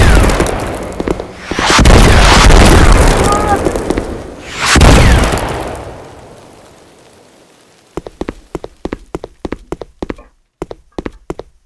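Explosions bombard a building in a Unity 3D war game set on a Ukrainian street in 2022, with two heavy rumbling blasts that roll out and fade, followed by scattered sharp debris-like clicks and taps.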